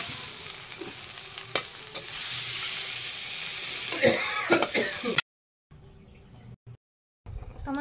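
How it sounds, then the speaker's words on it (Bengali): Fresh greens and raw onion sizzle in a frying pan while being stirred, a close steady hiss broken by spatula scrapes and clatter, then quieter intermittent frying after a short pause. "শাকটা নামানোর সময় একটু কাঁচা পেঁয়াজ দিয়ে একটু নাড়িয়ে দেবো,"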